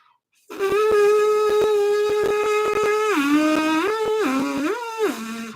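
A clean, steady trumpet mouthpiece buzz with the lips in the correct position, holding a clear pitch and then sliding down and up between notes, close and alone for about five seconds.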